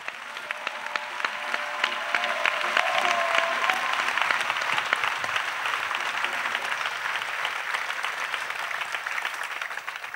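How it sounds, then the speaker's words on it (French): A church congregation claps and applauds for Jesus in a dense, sustained wave of many hands that swells and holds for about ten seconds, loud and full, with faint crowd voices underneath. "Clap for Jesus"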